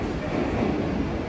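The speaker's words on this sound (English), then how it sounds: "Train's just coming in now." A passenger train pulls into a station in Devon, on a line running toward Exeter, with a steady, close, low rumble of wheels on the rails. The sound holds evenly for the whole stretch without breaks.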